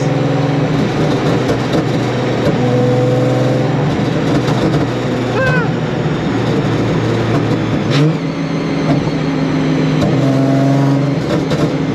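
A supercharged Nissan 350Z engine drones steadily at about 2850 RPM at 70 mph highway cruising speed, a constant low hum with road noise throughout and no talking.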